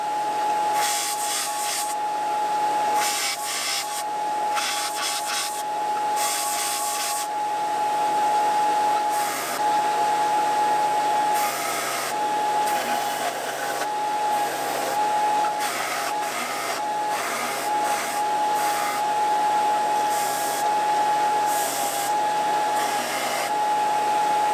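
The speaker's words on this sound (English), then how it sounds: "I'm gonna go just grind this up real quick by hand and get it a little smoother around the edges" Scrap metal for a mini C-clamp is ground smooth around the edges with a handheld grinder. A steady high whine runs throughout, broken by repeated bursts of harsh rasping as the tool bites the steel, close and loud, with no talking.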